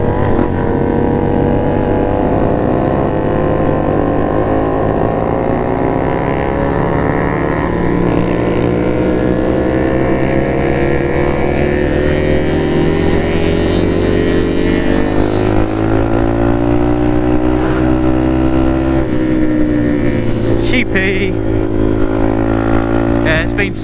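A motorcycle rides on the moors, its engine droning loud and close with shifting revs that rise and fall steadily throughout, along with wind noise.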